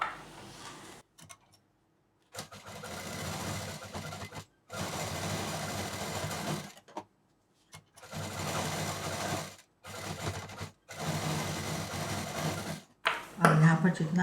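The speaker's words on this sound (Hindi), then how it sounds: "यहाँ डबल मशीन चलाते हुए इसको पूरा यहाँ तक पैक कर देंगे" A sewing machine stitches a colourful party purse in repeated bursts of steady whirring and ticking, several runs of a few seconds each broken by short silent pauses, close and clear.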